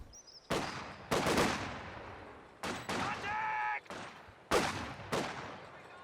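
Machine-gun and rifle fire in Company of Heroes 2, from a German MG team and grenadiers in a 1v1 match: repeated sharp bursts of shots at mid distance with short gaps between them, and a brief faint tonal whine in the middle.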